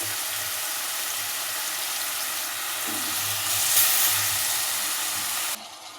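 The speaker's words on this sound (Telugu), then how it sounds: "ఆయిల్ అయితే హీట్ ఎక్కింది. సో మనం కట్ చేసి పెట్టుకున్న ఆనియన్ అయితే వేసేసుకోవాలి." Chopped onions dropped into hot oil for a chicken curry, giving a loud, steady hiss of frying that holds throughout and swells slightly midway before easing off near the end.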